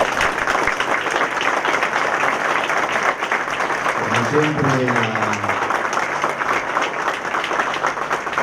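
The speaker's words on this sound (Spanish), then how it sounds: "les pido un fuerte aplauso" Sustained applause from an audience at a union political training session fills the room steadily for several seconds, with a voice speaking briefly over the clapping.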